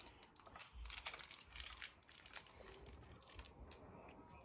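Thin plastic crinkles and tears close up in irregular bursts of crackling, quiet overall with brief louder rips.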